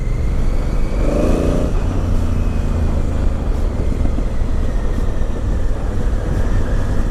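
A loud 2017 Honda Africa Twin motorcycle with a Remus aftermarket exhaust rumbles steadily with a deep, throaty exhaust tone, holding close and constant throughout.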